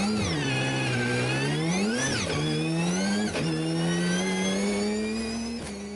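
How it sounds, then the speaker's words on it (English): A 1985 Series 3 Mazda RX-7 with a large 13B turbo rotary engine at a motorsport festival, loud and close, revving hard with rising and falling pitch sweeps and brief dips between gear changes. "1985 Series 3 Mazda RX-7, running a huge 13B turbo"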